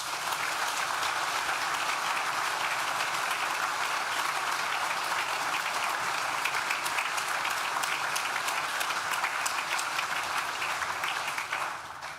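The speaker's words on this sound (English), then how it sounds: "Please join me in thanking them with a well-deserved round of applause." Sustained applause from a large audience at a university graduation ceremony, a dense even clatter of clapping that continues without a break and thins slightly at the very end.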